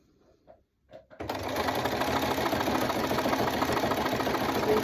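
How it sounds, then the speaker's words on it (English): A domestic sewing machine runs steadily, stitching lines through fabric and batting for an oversized hot pad; a few quiet taps come first, then a close, continuous whirring drone that holds for about four seconds. "just follow the edge of the fabric with your presser foot"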